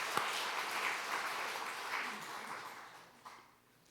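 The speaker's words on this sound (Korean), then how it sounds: "박수 한번." A church congregation claps for the choir during a Sunday worship service, a brief burst of applause that fades out over a few seconds.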